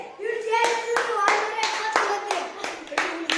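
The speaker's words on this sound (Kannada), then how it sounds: "ಸೈ ಹಾಕೊಂಬಿಡಿ ಚಪ್ಪಾಳೆ" Children in a classroom clap together, a run of loud, rhythmic, fairly even bursts under a teacher's voice, with some tonal speech or chanting through it.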